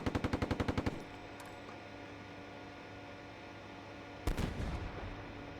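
A burst of about nine rapid machine-gun shots in the tank simulator Steel Beasts Pro PE, with a CV90/30 vehicle on a winter operation, gives way to a steady engine hum, then a single heavy boom with a fading rumble.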